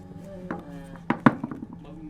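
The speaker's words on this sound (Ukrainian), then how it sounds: "Ну так я ріжу для великих, а для маленьких то так такими дуже дрібними" A knife chops raw potatoes into pieces for feeding bulls, with a few sharp, irregular chops against a board close by and a voice talking faintly in between.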